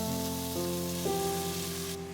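Onions and ginger fry in a pan with fennel seeds, a steady soft crackling sizzle that runs throughout under a sustained tonal hum, with no talking.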